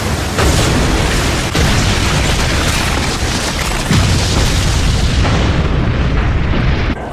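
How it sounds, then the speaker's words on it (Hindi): A massive explosion from Deidara's bomb in the Naruto Shippuden anime rumbles as a loud, continuous blast. The roar stays dense and unbroken for several seconds, with a few sharper bursts inside it, before it tails off abruptly. "एक धमाका हो जाए देदरा"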